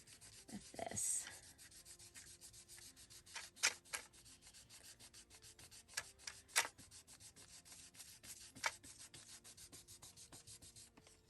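Hand sanding with homemade sandpaper made from junk mail gives soft, quiet rubbing strokes in an irregular rhythm, close up, with occasional slightly louder scrapes and no talking.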